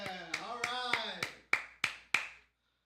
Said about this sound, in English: Everyone, another round of applause for Hannah.